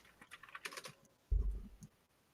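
Computer keyboard keys are tapped in a quick, light run of clicks, followed by a brief low thump, heard close with no speech during a live storm-tracking broadcast.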